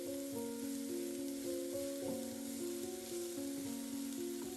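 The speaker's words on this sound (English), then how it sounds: "Cook it down until it's soft and has absorbed all its moisture." An onion, black pepper and paprika mixture cooks down in a pan with a gentle, steady sizzle beneath sustained musical tones.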